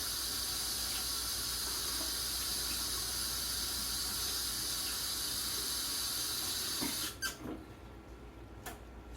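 Tap water runs steadily over food being washed at a kitchen sink, a constant close hiss that cuts off near the end, leaving faint handling clatter.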